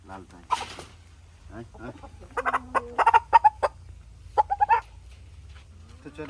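A chicken brought from a village market clucks in short bursts nearby, with quiet talk in the background.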